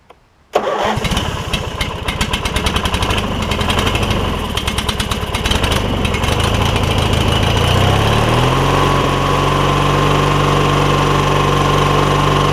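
An engine cranks and catches after carb spray, firing in rapid uneven bursts, loud and close, then settling into a steady droning idle with no voices.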